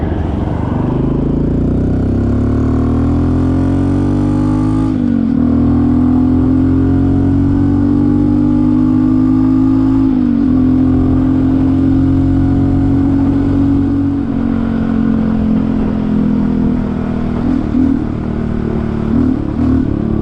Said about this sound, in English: Notice how that bike just kind of spurts out when I do that?